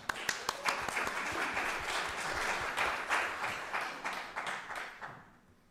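A room full of people clapping in a burst of applause that swells and then thins out to scattered claps.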